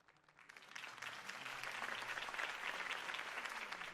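A crowd claps and cheers in The Batman video game by Telltale, the applause swelling quickly from a quiet start into a sustained, dense ovation.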